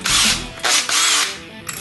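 A drill bores holes for pan head screws in a few quick bursts, loud and close, with short dips in pitch as the trigger is eased between spins.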